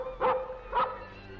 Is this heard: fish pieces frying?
no